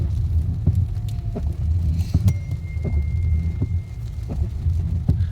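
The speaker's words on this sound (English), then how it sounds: "There's a lot of traffic actually coming off of World Drive here." Steady low rumble of road traffic as cars pull off World Drive near a shopping plaza in Celebration during Hurricane Milton, with soft repeated thumps over a constant drone and no talking.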